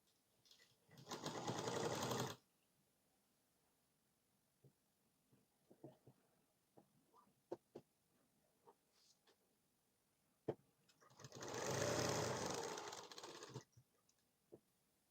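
A sewing machine runs stitches through a 40-inch blouse in two loud, steady bursts, first near the start and again near the end, with quiet handling clicks and taps between them.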